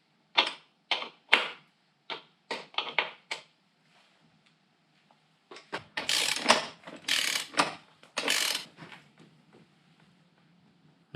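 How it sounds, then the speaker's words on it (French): A ratchet wrench tightens the rear wheel of a Yamaha Fazer 600 motorcycle, first in quick bursts of close clicking strokes, then after a pause in longer, louder, coarser ratcheting runs. "je vais pouvoir refaire la tension de la chaîne et resserrer ma roue"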